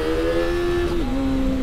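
Kawasaki ZX25R 250cc motorcycle engine holding a high steady rev, then dropping pitch slightly as it eases off, heard close and loud over a brief moment.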